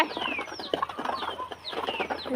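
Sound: chickens and ducks clucking while being fed paddy

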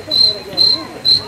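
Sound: person imitating a cricket chirping

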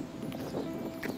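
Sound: horse walking, hooves clip-clopping

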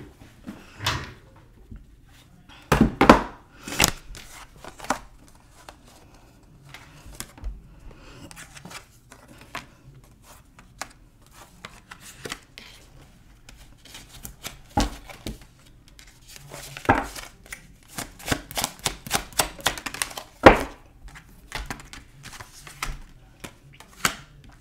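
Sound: picking up tarot cards

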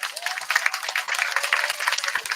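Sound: audience applause for busker festival teams

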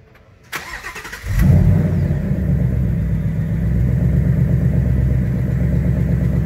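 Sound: Bullitt Mustang car engine starting and running

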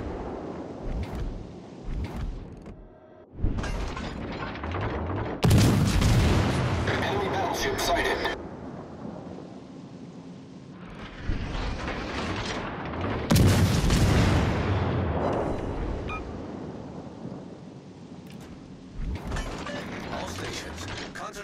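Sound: video game warship guns firing at an enemy warship

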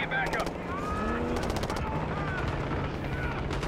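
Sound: gunfire in the video game Call of Duty Black Ops 6

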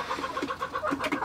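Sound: Sultan chickens and rooster clucking in a coop

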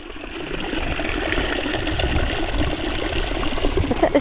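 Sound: bubbling brook

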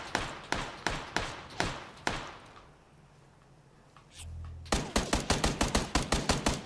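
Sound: gunfire in PUBG video game

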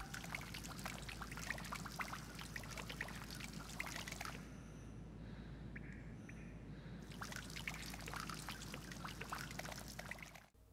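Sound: rain hitting water inside facility, from video game GTA 5

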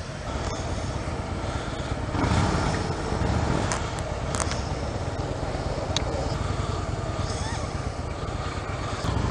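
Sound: Harley-Davidson Softail Deluxe motorcycle engine during ride

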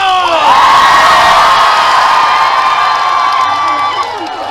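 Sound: crowd clapping and cheering at a festival

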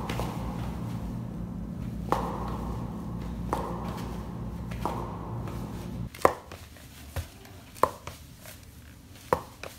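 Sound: Nike Vaporfly 4% shoe heel suction cup noise while walking

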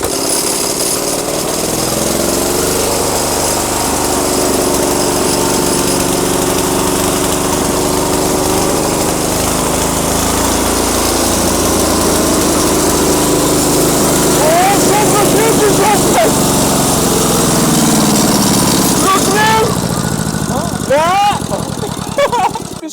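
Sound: walk-behind tractor engine starting and running

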